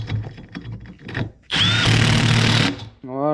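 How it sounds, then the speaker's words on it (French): Impact wrench drives an 11 mm socket onto a nut of a Peugeot 103 moped engine, giving a loud, dense buzzing rattle that lasts about a second and a half after a stretch of speech, with a voice resuming right after. "Douille de 11. Pareil, visseuse à choc."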